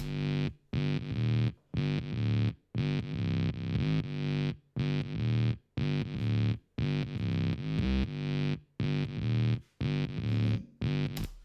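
A heavily distorted guitar riff chopped into short, rhythmic bursts for a song's verse, with sharp gaps of silence between them, repeating in a steady pattern.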